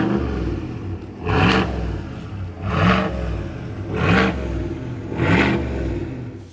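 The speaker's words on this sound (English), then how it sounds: "It has a hidden exhaust underneath that sounds so mean." A 2022 Chevrolet Silverado ZR2 pickup revs four times through its hidden underbody exhaust. Each rev is a deep, aggressive surge that rises and falls, close and loud, with no talking.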